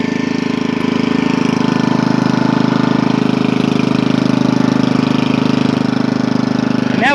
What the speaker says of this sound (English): So smooth. None of that Tecumseh popping.